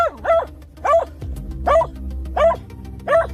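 A dog barks repeatedly near an electric eel at the water's edge, six loud, close barks in an even rhythm with brief whimpering tones between them and no talking.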